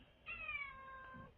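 A house cat lets out a single drawn-out meow, faint yet clear against a quiet room, its tone sliding gently downward before fading.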